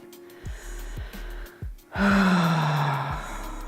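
A deep breath taken during a guided relaxation exercise: a short gasping inhale, then a longer, louder, voiced sigh-like exhale, close and alone.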